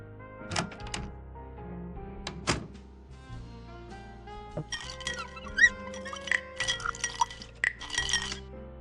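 A bar door opens in the point-and-click video game Frequency Missing, with a few sharp knocks and thunks followed by a cluster of small squeaks and clinks, all quiet and with no voices.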